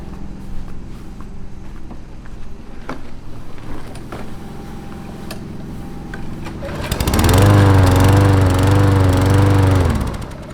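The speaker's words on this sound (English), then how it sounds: "so let's go ahead and fire this lawnmower up." A lawn mower's small engine starts up about two-thirds of the way through and runs loud and steady, its buzzing drone rising over the quieter background of footsteps and faint ambient noise.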